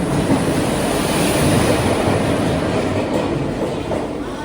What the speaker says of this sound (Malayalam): Train number 22637 west cost express ഇതാ പ്ലാറ്റ്ഫോം നമ്പർ 4ലേക്ക് കടന്നു വരികയാണ്.